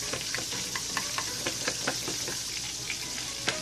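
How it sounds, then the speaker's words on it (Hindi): Marinade for fried chicken being mixed in a bowl, with quick irregular wet clicks and scrapes over a steady hissy background, close and moderately loud, no talking. "इसको मिक्स कर लेंगे अच्छी तरह"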